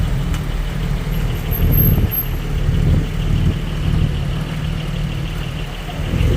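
A scooter engine runs on a street in Cannes, a steady low, throbbing hum that swells slightly and stays fairly loud throughout.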